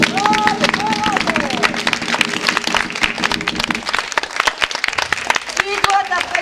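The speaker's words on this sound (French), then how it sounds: "On applaudit bien fort la grande" Clapping and cheering from an audience at an outdoor village theatre show in Rodemack, with dense, rough clapping running throughout and music tones fading out midway.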